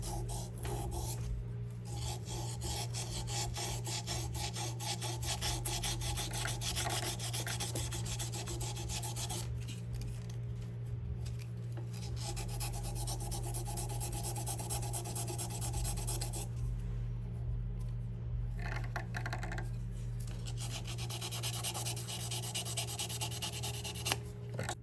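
A handmade ring containing carbon fiber is rubbed against finer-grit sandpaper in quick, continuous back-and-forth strokes, a close raspy scratching with a few short pauses and no talk.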